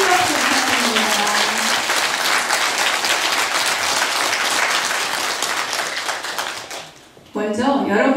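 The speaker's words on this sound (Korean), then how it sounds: "큰 박수 부탁드립니다" An audience at a book concert with talk and music applauds in welcome as a performer takes the stage, dense sustained clapping that fades near the end before a voice resumes.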